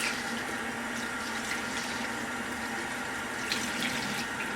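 Tap water runs steadily into a sink while a beauty blender sponge is squeezed and rinsed of soap, a continuous close splashing hiss with slight surges and no voices.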